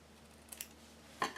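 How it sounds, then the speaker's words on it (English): Scissors make a couple of faint, quick snips trimming the ends of paper for a handmade Valentine's Day card, followed by a louder, crisper cut at the end in an otherwise quiet room. "I'm just going to snip a little off the ends."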